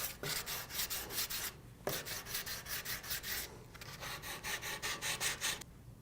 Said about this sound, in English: I've got most of the excess material removed now, so I'm going to switch back to a hand sander.